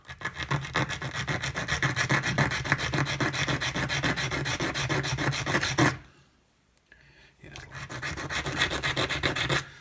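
Steady, continuous rasping of a fine file scraping back and forth across wood on a model ship, close up, pausing briefly for a second before resuming.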